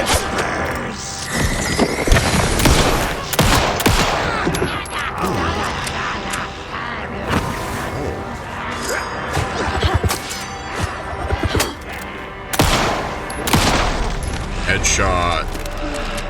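Gunfire in the video game Alan Wake 2 comes as repeated sharp, loud shots and crashing impacts in rapid bursts, mixed with game sounds and a voice talking over the action.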